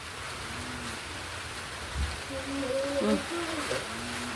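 Rain beginning to fall outdoors as a storm moves in, a steady broadband hiss of drops throughout, with a few brief voices talking over it.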